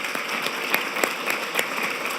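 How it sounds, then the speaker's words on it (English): Audience applause for two honorees at a town event, a steady wash of many hands clapping with a few sharper individual claps standing out, moderately loud throughout. "One more round of applause for Cam and Bob, if we could."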